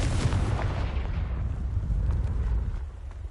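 Confringo fire spell cast in Hogwarts Legacy, a loud booming blast with a rumbling low-end roll that fades over a few seconds.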